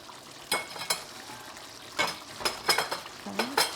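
A spoon stirring mushroom miso sauce in a pan, making several short scraping strokes against the metal over a faint background hiss, close and fairly quiet, with no talking.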